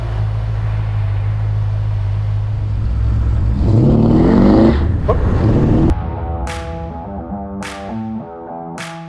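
A modified 1949 Chevy 3800 pickup engine revs up hard and loud to a peak, then drops back. Several sharp clicks and a settling idle follow.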